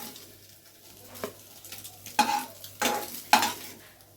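A few scraping strokes of a spatula against a pan of frying potatoes, each with a burst of sizzle, over a quiet background of low frying.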